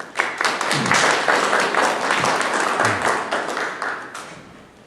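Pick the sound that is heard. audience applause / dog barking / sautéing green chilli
audience applause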